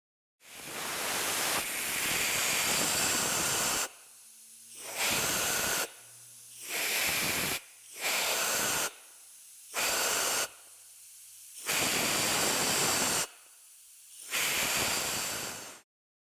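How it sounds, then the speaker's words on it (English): Compressed air from a hose blasts into the intake of a GY6 go-kart engine during carburetor repair, coming in repeated loud hissing bursts of uneven length separated by short silences. "Using an air hose at a distance to blow into this intake."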